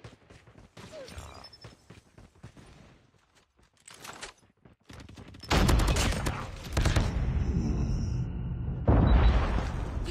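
Rapid KN-44 assault rifle fire in Call of Duty Mobile, scattered shots early then loud sustained bursts in the second half, with in-game sounds and brief voice lines around it.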